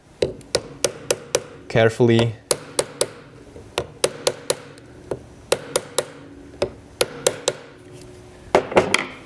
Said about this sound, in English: Now just use the hammer